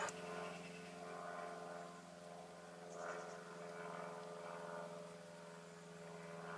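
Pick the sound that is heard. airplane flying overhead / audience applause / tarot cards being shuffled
airplane flying overhead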